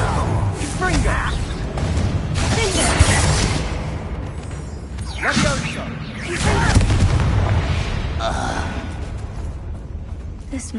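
Confringo spell blasts in Hogwarts Legacy boom and crackle in several swelling bursts over dense game noise and background effects, fairly loud and continuous.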